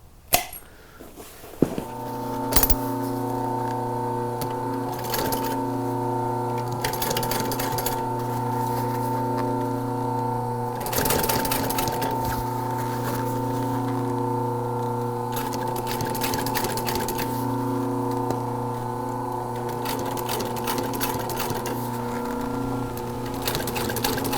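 An industrial sewing machine runs continuously while top stitching truck seat upholstery, a steady whirring motor hum with a fast mechanical needle rhythm, close and loud, after a few sharp clicks at the start.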